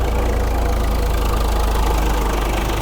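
A tractor engine runs steadily at idle, a loud continuous low rumble with a knocking chug throughout, close by and without talk; the engine does not cut out within the span.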